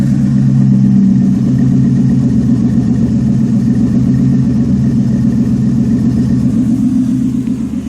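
A 2010 Crown Victoria P71 V8 idles through Flowmaster 40 mufflers and 3.5-inch exhaust tips, a deep, steady rumble and low throaty burble holding constant with no revving, close and loud.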